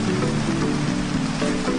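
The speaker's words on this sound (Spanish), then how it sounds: "llegan las lluvias" Heavy rain pours down onto a river in the wild, a dense, steady hiss of drops on the water's surface that stays loud and unbroken throughout, with no voices.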